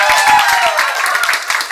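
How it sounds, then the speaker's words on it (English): Audience clapping at an improv student showcase, a short burst of many hands applauding together, moderately loud, with a voice speaking over part of it. "Give them a round of applause."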